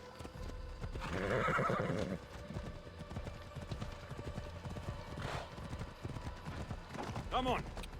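Horse hooves clip-clopping and a loud whinny in the video game Assassin's Creed Odyssey, a burst of galloping near the start, then a brief bright neigh near the end, with game ambience and faint talk beneath.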